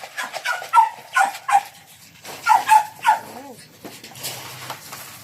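Excited big dogs at feeding time give off a run of close yips and barks that trail into whimpers, while a person speaks over them.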